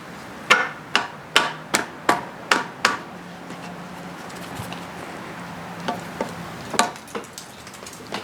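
Metal tapping and knocking while working the prop seals out of a Yamaha 225 HPDI outboard lower unit with pliers, a run of about eight sharp, evenly spaced strikes, then scattered lighter clicks, close and without talk.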